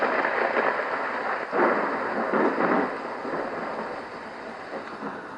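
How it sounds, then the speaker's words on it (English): Rolling thunder rumbles over a steady hiss of rain, swelling in a few loud waves before easing off. No one speaks. "and thunder."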